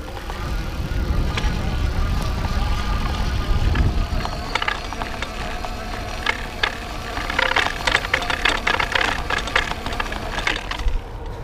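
Electric bike climbing a hill on throttle power, a steady whirring motor drone under rustling wind and road noise, with rattling clicks and ticks growing busier in the second half; no talk.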